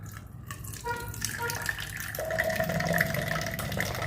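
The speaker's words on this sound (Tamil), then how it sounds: "இப்படி வடிகட்டி எடுத்துக்கோங்க" Cooled rice water is strained into a container, a close, steady trickle and splash of liquid that grows slightly fuller as the container fills, with no talking.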